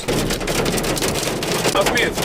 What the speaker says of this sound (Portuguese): Teve chuva forte, raios e muito granizo.